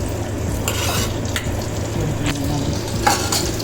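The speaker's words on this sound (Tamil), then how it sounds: "குழம்பு நல்லா கொதிக்குது, ஆனால் இன்னமும் கொஞ்சம் கொதிக்கணும்." Fish curry bubbles and sizzles in a pot up close, with occasional scrapes and clinks of a spoon stirring through the steady hiss.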